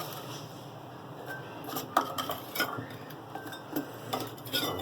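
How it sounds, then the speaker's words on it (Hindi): Garlic and ginger being pounded in a mortar, irregular dull knocks and scraping clatter of the pestle recurring every half second or so, quiet and close, with no voices. "और अब मैं इसमें कुंडी में ये भी कूट लूँगी"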